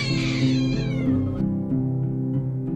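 A cat lets out a drawn-out, wavering meow that bends upward into a strained caterwaul, close and fairly clear, with no voices present.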